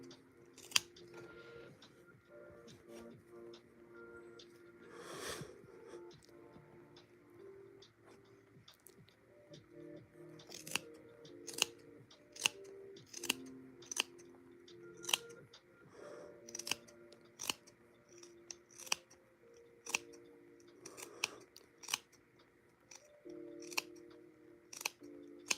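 A very sharp pair of scissors snips through material, with crisp isolated cuts that speed into a steady run of closely spaced snips, close-up and clear against a quiet background with no talking.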